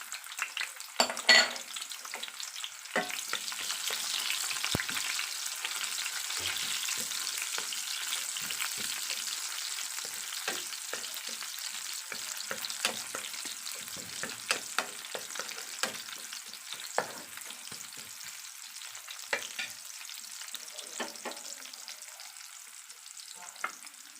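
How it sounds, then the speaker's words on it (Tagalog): Garlic, onion and tomato sauté in hot cooking oil, a steady close sizzle with occasional stirring clicks and scrapes of a utensil throughout. "lagyan na po natin ng cooking oil para magisa na po natin ang mga sangkap"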